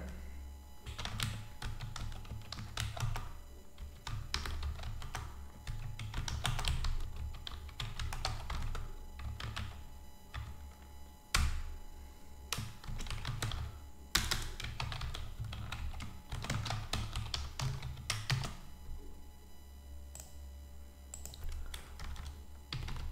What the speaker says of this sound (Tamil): நான் கமெண்ட்டோட டைப் பண்ணுறேன்.